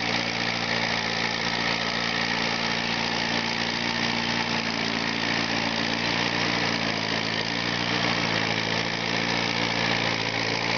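An old Massey Harris Pony tractor engine runs steadily, a close, continuous mid-pitched idle with an even throb and no talk over it.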